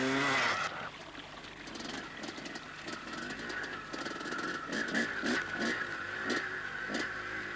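An enduro motorcycle from a Welsh event of the mid-1980s is ridden under heavy throttle up slippery rocks, its engine note loud and steady with repeated surges as the rider climbs, and no voices are present.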